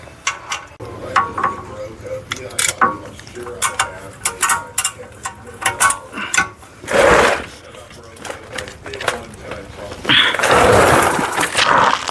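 A socket wrench ratchets on a bolt of a 2010 VW CC rear wheel bearing, producing a run of quick metallic clicks in bursts, with a couple of longer scraping pulls near the end, close up and partly under talk.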